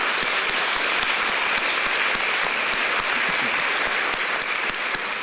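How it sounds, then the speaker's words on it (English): Guests at a chamber of commerce dinner banquet in Taipei applaud with a loud, even patter of many hands that holds steady for about five seconds with no talking. "So give yourself a round of applause."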